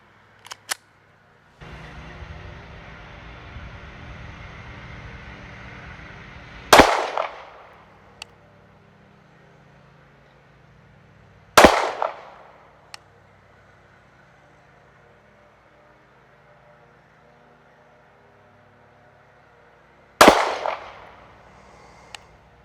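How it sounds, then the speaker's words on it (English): Three loud, sharp handgun shots from a Canik Mete MC9 ring out several seconds apart during a 7-yard accuracy test, each a close crack with a brief decaying echo, over a faint hum. "I am going to shoot an accuracy test from a distance of 7 yards."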